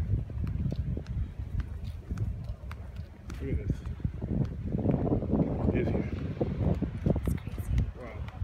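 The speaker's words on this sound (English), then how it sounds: "But it's good wind, like it's not chilly or sandy." Beach wind buffets the microphone in a deep, gusting rumble that swells and fades, while people talk over it throughout.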